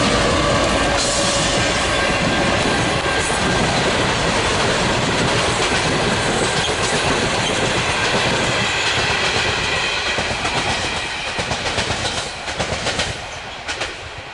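The Overland passenger train, with its down service, rumbles past loud and close, with rolling wheel clatter and rhythmic clickety-clack that fades slightly toward the end.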